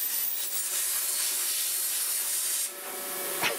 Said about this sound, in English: a plasma cutter